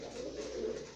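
Tumbler pigeons coo softly and continuously indoors, a low throaty burbling close by, with no other sounds.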